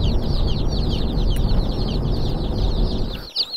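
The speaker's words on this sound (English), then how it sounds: "All right, so here's our chickies." A large group of young meat chickens, day-old chicks, peeping constantly in a loud, dense chorus with rumbling background noise, close up, ending with a brief knock.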